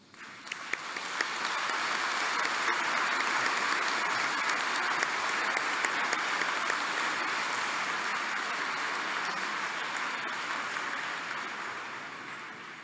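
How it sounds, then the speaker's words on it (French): A church congregation at a synodal Eucharist celebration applauds in a long, even roll of many hands, swelling quickly, holding steady for over ten seconds, then slowly thinning out, with no talking. "Je crois que nous pouvons les applaudir"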